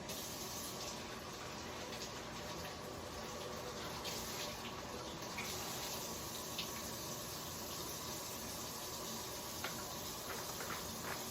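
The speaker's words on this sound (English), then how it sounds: "I'm gonna just take a handful of some cold water" A cold-water tap runs steadily into a bowl in a quiet kitchen, water splashing softly and continuously with no voices.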